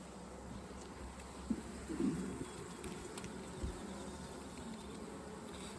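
Carniolan honey bees buzz in an open hive, a steady dense hum close by with a few brief louder swells.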